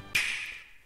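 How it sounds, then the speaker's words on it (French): A single sharp finger snap cracks out close and dry near the start, followed by a bright ringing tail that fades over a fraction of a second. "Puis il entendit un claquement de doigts sur sa gauche."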